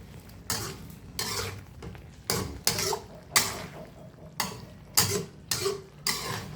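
Catfish tossed with spring onion and kaffir lime leaves in a bowl, heard as a series of about nine sharp scraping, clattering mixing strokes at a steady, uneven rhythm, close and fairly crisp with quiet gaps between.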